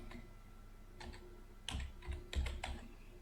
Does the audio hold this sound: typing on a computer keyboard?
yes